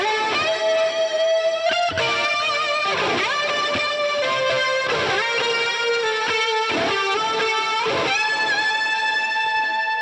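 An electric guitar plays a lead line through a Marshall Plexi amp emulation with chorus and digital reverb, sustained distorted notes and bends ringing with a wide, lush wash, loud and alone.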